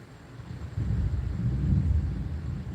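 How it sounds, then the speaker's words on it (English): Low rolling thunder rumbles from a storm outside, a broad deep roar that swells after the first second and holds steady and fairly close, with no voices over it. "Thunder."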